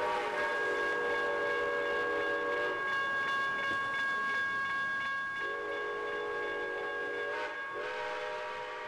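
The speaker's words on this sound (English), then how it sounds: "the unmistakable sound of a steam locomotive whistle" A steam locomotive whistle sounds in long, sustained chords from a distance, holding steadily with a short break and a slight pitch shift before fading, with no voices.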